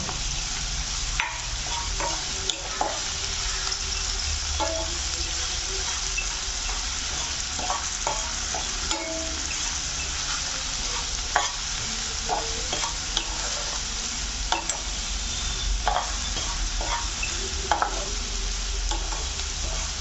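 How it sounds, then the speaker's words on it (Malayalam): Green chillies and curry leaves sizzle in a hot pan with oil, a steady close frying hiss broken by sharp clicks and scrapes as a spoon stirs them around. "പച്ചമുളക്, അതുപോലെ തന്നെ കറിവേപ്പില ഇത് നന്നായിട്ടൊന്ന് വഴറ്റിയെടുക്കാം."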